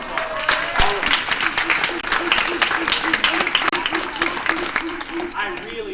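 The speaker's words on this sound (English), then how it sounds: "Give yourself a round of applause." An audience of students and families claps together at a live museum event with a NASA astronaut, a dense, even burst of applause lasting several seconds over some underlying background sound.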